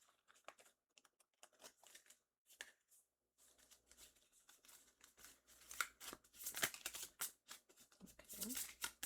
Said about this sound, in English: I'm going to shuffle those real quick.